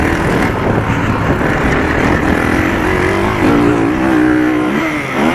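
A Kawasaki KX450F dirt bike revs loudly in second gear up the face of a rough jump, its engine droning steadily and then rising in pitch toward the end.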